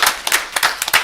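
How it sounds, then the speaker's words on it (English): A short burst of audience clapping at a city council meeting, several quick sharp claps close by, brief and loud, with no talk over it. "Can we have a round of applause for that,"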